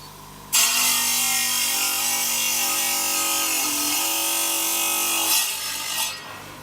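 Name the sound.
tile cutter cutting slate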